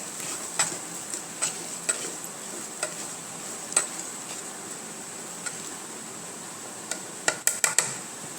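A spoon stirs a thick chickpea-flour batter with chopped coriander and fenugreek leaves in a bowl, giving soft, close scraping and irregular clinks against the bowl, with a quick cluster of taps at the end.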